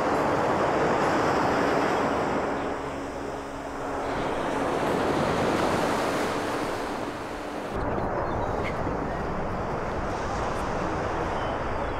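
Ocean waves roll onto a beach in a steady broad roar that swells and eases, mixed with wind buffeting the microphone.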